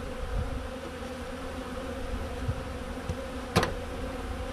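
Honeybees buzz steadily at a hive during a swarm capture, with a robbing situation underway; a dense continuous drone fills the clip, broken by a few brief knocks and one sharp clatter near the end.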